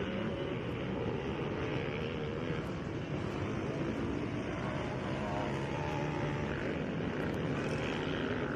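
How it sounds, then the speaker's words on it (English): A Husqvarna motorcycle engine drones steadily, coming around a corner at a race event, a constant moderately distant roar that neither clearly rises nor fades, with no talking. "Nice Husqvarna coming around the corner."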